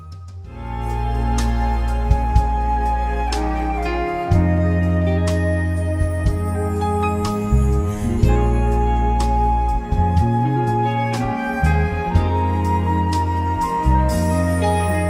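Chill-out cover piece with steady piano chords and sustained bass and melodic lines, played continuously with gentle swells and no voices.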